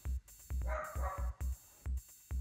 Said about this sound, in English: Drago's barking, so I'm trying to eliminate that a little bit